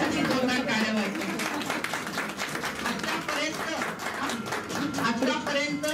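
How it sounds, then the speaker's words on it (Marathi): At a sight-care award ceremony, an audience breaks into dense, sustained clapping that holds for several seconds with crowd murmur underneath. "दीपक यांच्यासाठी जोरदार टाळ्या वाजवा."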